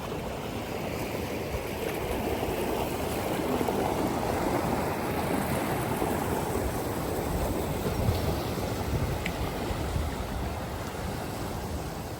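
Floodwater rushing through Willow Creek near Sioux Falls, South Dakota, a normally tiny creek swollen by heavy rain, as a steady, fairly close roar of churning water with no voices.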